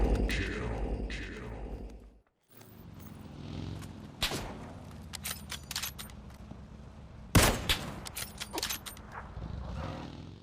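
Gunfire in PUBG played on console: bursts of shots and loud sharp cracks separated by quieter stretches, with a sudden silence early on and game sound effects between the bursts.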